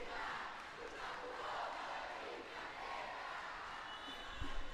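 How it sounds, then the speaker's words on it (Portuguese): Fans singing in the stands at a women's futsal cup final, a faint, distant wash of crowd chant sustained across the arena with a brief thump near the end. "Canta a torcida, Luana Moura."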